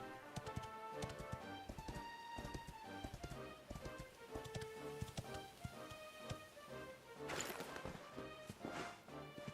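Steady clip-clop of horse hooves at a walking pace in Dragon Quest XI, close and fairly quiet, with a busy layered backdrop of game sound.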